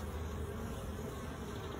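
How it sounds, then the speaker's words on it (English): A dense, steady insect buzz of many honeybees around a hive entrance, continuous and fairly close, with no voices. "you can see the bees going in and out really fast"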